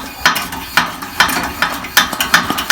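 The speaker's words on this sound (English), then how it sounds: "You just pump that up." A hand pump pressurizing the fuel tank of a stove in a step van, producing a close, rhythmic series of about seven sharp ratcheting clicks, one per stroke.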